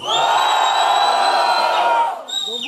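An audience at a Santa Catarina Duelo de MCs rap battle cheers and whoops for an MC in a sustained, close roar that breaks off abruptly, followed by a brief, quieter burst of shouting.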